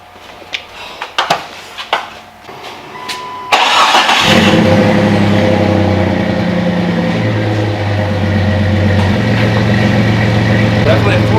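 A car engine cranks and fires up in a garage, then settles into a loud, close idle with rising and falling revs, after some handling clatter at the start.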